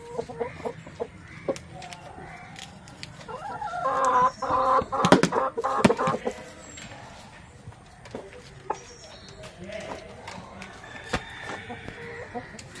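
A hen clucks inside a chicken coop, a cluster of close, rhythmic clucks swelling for a few seconds before settling into occasional scattered sounds, with a person talking nearby.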